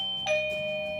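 A Eufy E340 video doorbell's mini bass repeater chime sounds once. It is a clear, close, sustained ding-dong tone with no talking over it.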